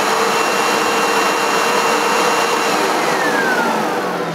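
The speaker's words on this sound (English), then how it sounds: "So the motor's fine," Sebo X1 vacuum cleaner motor running continuously, a loud, steady whirring roar with a high whine throughout.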